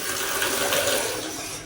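A tap runs in a campsite restroom by a river, a steady close rush of water pouring into a sink, brief and alone without talk.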